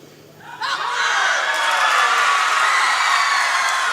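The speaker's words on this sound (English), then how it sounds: "this crowd here is making some serious noise" A home crowd at a weightlifting competition erupts into loud, sustained cheering and whooping that swells suddenly and holds steady, with children's shouts mixed into the roar.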